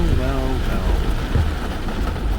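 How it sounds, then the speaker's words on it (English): Rain falling outdoors during an overland trip in a Subaru, a dense steady hiss with low rumble, heard close and loud throughout with a voice briefly at the start. "It's rainy day."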